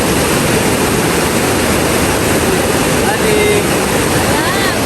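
A strong river current with churning waves, a loud, dense rushing roar that holds steady without a break, close and enveloping.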